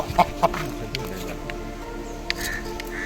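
A caught chicken clucks a few times, with short sharp calls early on and softer ones later over a low background hum and faint voices.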